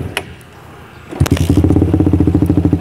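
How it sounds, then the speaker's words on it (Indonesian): A Suzuki Satria FU 150 motorcycle with road-race modifications starts after a few clicks and a cranking scrape, then settles into a loud, close, steady rapid idle putter. "saya bakalan hidupin motornya"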